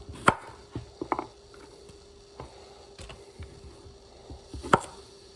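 A knife cuts a Persian cucumber into cubes on a board, giving a few close, crisp chops spaced irregularly with quiet pauses between them.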